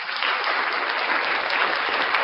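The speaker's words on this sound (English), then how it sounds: "Round of applause for First Amendment shenanigans." Steady round of applause from an audience, dense and continuous clapping at close range with no voices over it, holding at an even level throughout.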